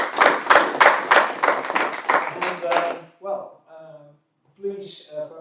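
An online tech meetup audience gives a short burst of applause, quick dense claps lasting about three seconds before a voice speaks alone.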